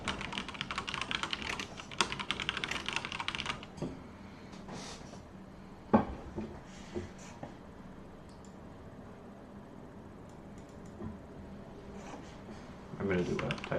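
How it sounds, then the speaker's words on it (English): Rapid typing on a computer keyboard during a typing test, dense clattering keystrokes at first, then sparser clicks and taps; a voice talks over parts of it. "I'm going to do a typing test."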